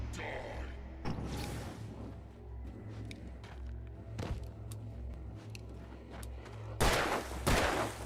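Gunshots ring out in the video game Alan Wake Remastered, a few sharp, loud cracks spaced apart over a low droning ambient background.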